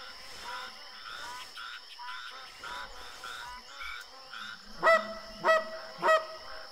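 Geese honking over a bay during a hunting trip, a series of rhythmic distant calls followed by three louder, closer honks near the end.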